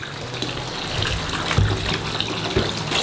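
Warm tap water runs steadily over a colour-changing mermaid doll in a sink, a constant splashing gush with a few louder splats, close and unaccompanied by talk.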